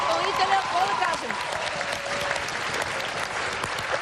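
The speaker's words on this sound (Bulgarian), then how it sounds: "Аплодисменти за От Криско!" A studio audience at a televised talent show applauds, a dense continuous clapping close and loud throughout, while a host speaks over it.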